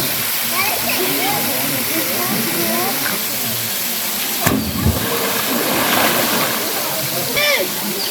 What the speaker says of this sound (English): We're here at the lower waterfall, and it's a little warmer than the last one.